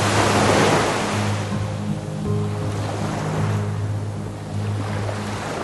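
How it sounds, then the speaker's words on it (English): Catamaran sailing at about 9 knots through ocean waves in a 20-22 knot breeze; loud rushing water and wind surge and fade continuously, with a low hull hum underneath and no talking. "Here we are sailing."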